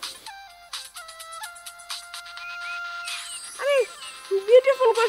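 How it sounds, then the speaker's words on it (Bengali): A mobile phone ringtone plays a bright, melodic jingle of repeated tones, followed by voices talking. "আমার একটা ফোন এসেছে"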